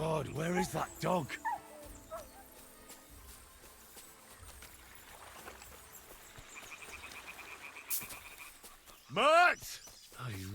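In Kingdom Come: Deliverance II, a dog yips and whimpers in short, high, wavering bursts at the start and again near the end, with quieter game ambience and someone talking in between.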